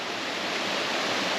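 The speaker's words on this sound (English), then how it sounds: "it's a nice little waterfall, as you can see, going into this stream" A small waterfall pouring into a stream, heard as a steady, dense rushing wash of water with no breaks, fairly close and alone without talk.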